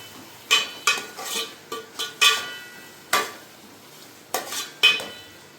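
A spoon scrapes and clanks against a pot while garam masala powder is stirred into a bachelor-style Ambur chicken biryani, sharp metallic knocks coming in an irregular rhythm, close and clear with no talking.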